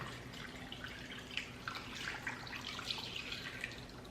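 Marinade is poured over quails prepared for grilling, a continuous liquid splash and trickle with small drips and spatters throughout, close by and without talking.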